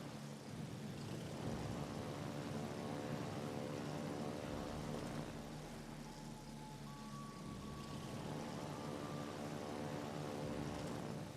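Propeller warplanes drone steadily through a naval carrier battle in a video game, a loud continuous engine hum that swells and fades across the stretch with no talking.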